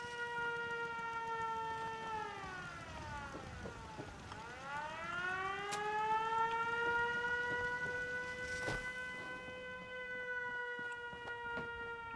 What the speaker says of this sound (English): Glad to see they actually used the siren.